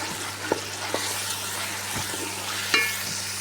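Spice masala frying in a pan while being stirred for a goat head (siri) curry, with a steady sizzle and a few soft scrapes of the spoon.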